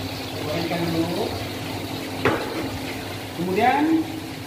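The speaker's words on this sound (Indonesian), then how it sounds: "Gorengkan dulu." Fish frying in plenty of hot oil in a wok, with a steady sizzle broken by clattering stirring and scraping noises, while a voice talks nearby.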